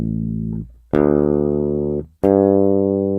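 Three sustained bass guitar notes, plucked one after another and left ringing, each decaying slowly while the tuning is checked; close and loud, with no talk.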